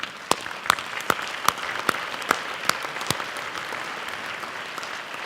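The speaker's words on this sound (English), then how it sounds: "If all of you folks would please stand and we'll give you some applause." A standing audience applauds at a University of Mississippi Hall of Fame gathering, with sharp individual claps ringing out in a fairly even rhythm over a softer wash of hand noise, moderately loud and close.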